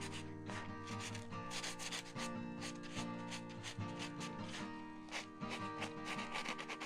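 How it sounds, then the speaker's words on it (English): A small sponge sander lightly rubs over the surface of a dry plaster figure, producing a continuous soft scratchy hiss with gentle strokes, close and quiet, with no talking. "I take my little sponge sander here, and I just lightly sand these areas"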